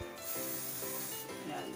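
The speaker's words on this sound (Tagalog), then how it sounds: "Hindi natin kailangan maging madiin sa pag-spray kasi kusa naman siyang bubuga." Aerosol spray paint can releasing a steady hiss while painting a wall, a continuous near spray lasting the whole moment with slight swells in pressure.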